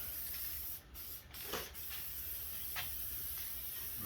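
Copper coating is sprayed onto engine parts in a steady aerosol hiss, close and fairly quiet, with a few short bursts and brief gaps.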